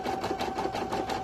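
An embroidery machine stitches an in-the-hoop stuffed toy in a 9 by 14 hoop, giving a quiet, steady, fast mechanical whirr with even rapid pulses and no voices.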